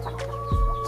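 A Bangkok crossbreed rooster gives a short, low cluck close by, one brief throaty burst over a steady hum of background noise.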